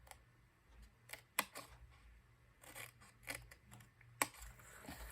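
Scissors snipping through scratch paper while shaping a desktop calendar box, a few sharp separate cuts with quiet pauses between them, close and fairly soft, no voices.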